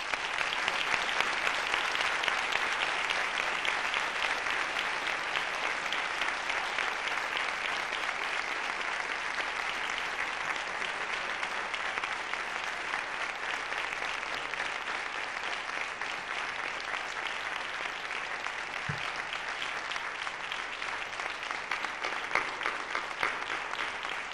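An audience at a literary festival in Tomelloso, Spain, applauds a lyric poet, with steady, even clapping that holds for over twenty seconds, moderately distant and without pause.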